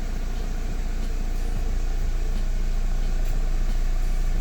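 A car engine with stock exhaust idles with a steady, low, quiet rumble, nearby and unchanging throughout.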